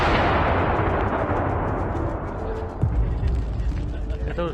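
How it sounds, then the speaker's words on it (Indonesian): Bursts of gunfire ring through the Kreminna forest, a dense, continuous roar of overlapping shots and rumbling blasts with sharp cracks standing out, loud and unbroken throughout. "suara rentetan tembakan di hutan Kremenski tersebut"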